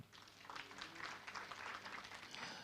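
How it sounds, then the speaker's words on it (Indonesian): A church congregation claps during a worship service, a soft, dense patter of applause that carries on steadily and sounds somewhat distant. "Tepuk tangan bagi Tuhan."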